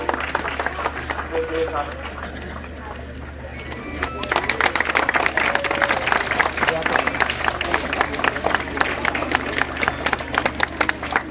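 An audience claps at a felicitation ceremony honouring a student. A dense patter of applause builds after a quieter start and holds steady, with voices in the crowd audible underneath.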